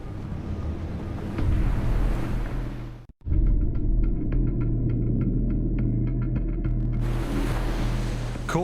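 Heavy Pacific Ocean surf crashes in a loud, steady roar with wind buffeting, broken by a brief dropout before the churning wash resumes.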